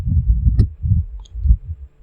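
A heartbeat thumps in a slow, steady rhythm, low, deep and close, with four muffled double beats and a few faint clicks between them.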